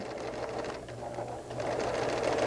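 A sewing machine sewing up the edge of a sweater sleeve toward the underarm runs with a steady, close, even whirring hum, growing slightly louder toward the end.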